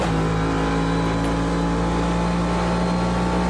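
Engine of a NASCAR Next Gen stock car in the racing sim Automobilista 2, a steady loud drone holding a constant pitch throughout, without any talk over it.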